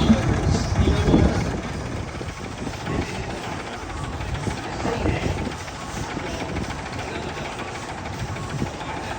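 A steam traction showman's engine, a scenic showman's type, running at a historic vehicle rally, giving a steady mechanical chuffing and rumble with crowd noise around it.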